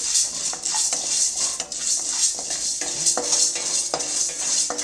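Urad dal dry-roasting in a pan with no oil, stirred with a metal spoon that scrapes and clinks against the pan in a steady irregular rhythm over a constant sizzling hiss, with no talk.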